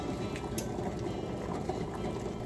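Eggs boil in a pot of water, giving a continuous bubbling, rolling simmer at moderate volume with no other sounds.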